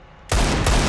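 Gunfire in CS:GO bursts in abruptly after a moment of quiet, loud and close, with rapid overlapping shots rattling on continuously to the end.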